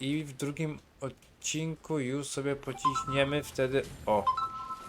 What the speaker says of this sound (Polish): sorry za telefon